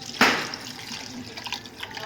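A cup of water is poured into a pot of mutton leg soup, a sudden splashing gush followed by softer trickling and dripping, close and moderately loud.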